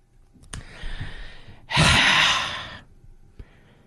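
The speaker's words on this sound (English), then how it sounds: "What's with the heavy breathing?" Heavy breathing played from a broadcast: a few loud, breathy gasps and sighs, one long forceful exhale in the middle, with quieter breaths around it and no speech.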